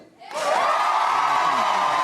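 After a brief quiet start, a studio audience bursts into loud, sustained applause and cheering that holds steady to the end.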